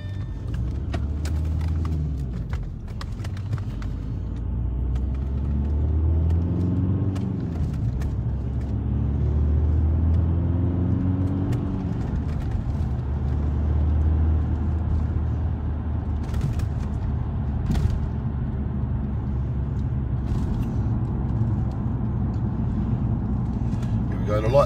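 A car drives along a road at night with a steady, close low engine and tyre rumble that runs the whole time, under a voice talking.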